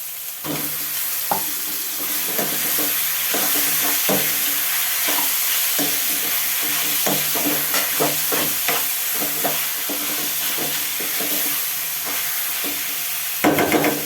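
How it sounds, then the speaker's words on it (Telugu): Chicken pieces fry in a pan for an Andhra-style mango curry, with a steady sizzle under repeated spoon scrapes and knocks against the pan. The sound is close and busy throughout. "చికెన్ వేసుకుందాం"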